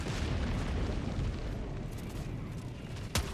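Grenade explosions in the video game Helldivers 2 form a dense, continuous rumbling roar of blasts and booms, with a sharp crack near the end, loud and close with no talk.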